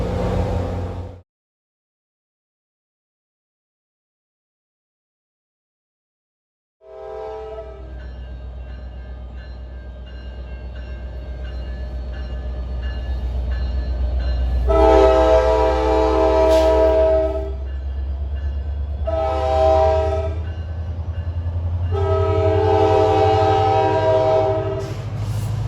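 An NJ Transit train passes Ramsey station on a hot day. After a brief silence, a low, rumbling approach builds, and the train's horn blows three loud blasts over the steady roll of the cars.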